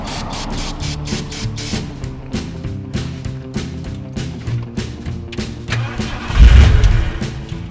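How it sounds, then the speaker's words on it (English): A classic truck engine, not run in years, cranks over repeatedly in rhythmic pulses without catching, ending with a louder low rumble. "it's cranking now, which is good because it's not locked up"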